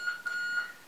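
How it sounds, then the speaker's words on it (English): A loud household alarm beeps in three repeated high-pitched pulses, sounding somewhat distant through several rooms, with no talking. "really loud alarm"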